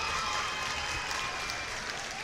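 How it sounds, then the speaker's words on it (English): An audience at an ESL Ladies Night esports match applauds and cheers for player QueenE, giving a dense, steady wash of clapping with no clear voices. "I felt that cheer was a bit more happier for QueenE."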